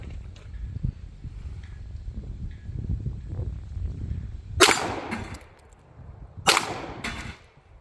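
Two sharp gunshots from a Ruger P85 full-size 9mm pistol, spaced about two seconds apart with short decays, over low outdoor rumble and no speech.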